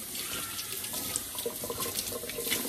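Tap water running steadily into a sink while a baby bottle top is rinsed, a close, continuous splashing stream with small gurgles and no speech.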